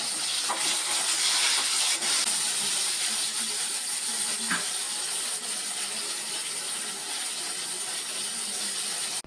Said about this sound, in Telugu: ఇలా ఆయిల్లో బాగా మగ్గే వరకు వేయించుకోవాలి